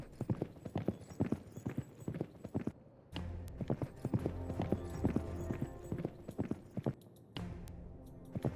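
Horse hooves clip-clop in the video game Citadelum in a quick, steady rhythm, fairly faint, with the pace shifting briefly partway through.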